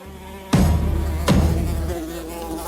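Flies buzz around fish on Socotra, a steady close insect drone broken by two sharp knocks, with no one speaking.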